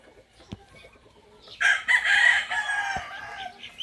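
Several fighting roosters kept together crow loudly, with clucking mixed in; a couple of sharp clicks come first, then a sustained, overlapping chorus of crows fills the last two seconds, close and dominant.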